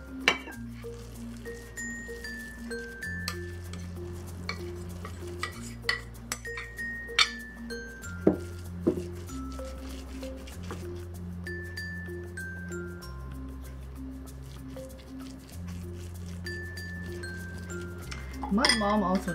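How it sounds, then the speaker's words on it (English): Ceramic dishes and metal utensils clink softly in a kitchen as a pork mixture with fermented salted fish is transferred onto a steaming plate, a few sparse taps and scrapes over background music. "Now I'm going to transfer the pork mixture onto my steaming plate."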